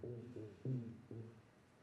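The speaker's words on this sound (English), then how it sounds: "This will be the sound of a black drumfish." An underwater recording of a black drumfish gives four low, resonant croaking pulses at an irregular pace, each a short tonal grunt, faint against quiet water background.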